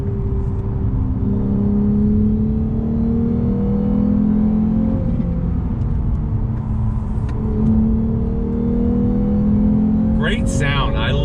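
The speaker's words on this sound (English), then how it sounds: "I love the sound coming from this car." A 2019 Lexus RC350 F-Sport engine pulls hard in second gear, a steady rising drone heard from inside the cabin, rising and dipping with shifts, with faint talk near the end.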